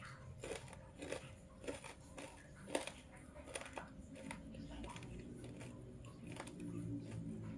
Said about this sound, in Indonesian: mari kita tes tingkat kekriukannya